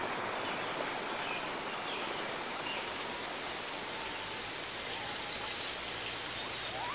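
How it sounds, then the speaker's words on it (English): Steady, even spray of water from a waterfall feeding a waterhole, a continuous broadband hiss like heavy rain, fairly close and unbroken throughout with no voices. "Spray from the waterfall,"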